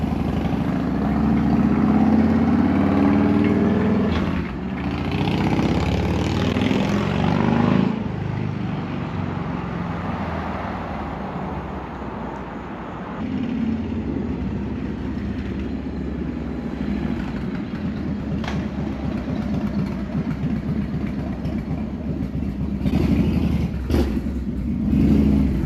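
Harley-Davidson FXR motorcycle with a bad wheel bearing riding up the block, loud engine rumble and revving, throttle changes in the first seconds, then a steadier drone as it moves off.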